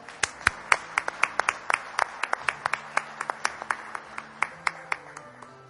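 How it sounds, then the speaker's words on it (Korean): A forum audience gives sparse applause to welcome a speaker. A small group claps in distinct, fairly regular strokes that slowly taper off over a low background hum. "여러분, 이태식 대사님을 큰 박수로 맞이해 주십시오."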